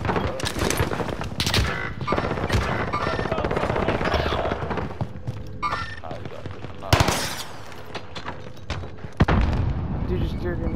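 Grenade explosion amid machine-gun and rifle fire in a first-person shooter, dense bursts of gunfire with heavy booms around the midpoint and near the end, a voice talking throughout.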